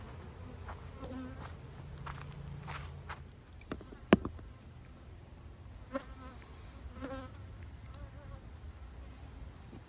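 Bees buzz faintly around beehives on a hot day, a soft continuous hum with occasional louder passes near the listener, plus a few light knocks and rustles as someone moves among the hives.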